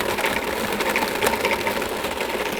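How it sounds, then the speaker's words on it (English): A small budget food processor grinds chunks of pork shoulder and trimmed fat, giving a steady, close, loud motor whir with a rough, churning texture throughout. "you probably have a better food processor than this"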